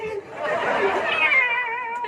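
A human voice imitates a kitten's meow in a single drawn-out, wavering cry lasting about two seconds, close and fairly loud.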